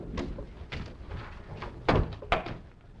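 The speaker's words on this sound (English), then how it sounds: "Close the door." A door shuts in an indoor scene of a 1952 television drama: two close, dull thuds a moment apart near the end, after quiet shuffling and rustling.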